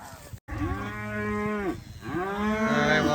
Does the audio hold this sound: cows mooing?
yes